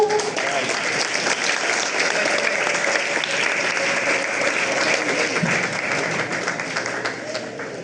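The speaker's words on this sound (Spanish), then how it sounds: "recibámonos con un fuerte aplauso." Audience applause at a forum talk on sustainability challenges for monogastric livestock species in Venezuela, dense steady clapping from a full room that fills the whole stretch without pause.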